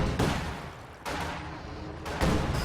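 Anti-tank gun fire in the Company of Heroes 2 strategy game, with a couple of heavy booming blasts spaced apart over a rumbling battlefield background, loud and close.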